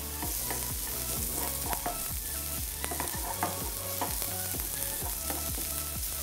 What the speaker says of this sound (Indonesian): Yang pertama adalah tumis bawang putih. hingga harum. Dilanjutkan dengan bawang.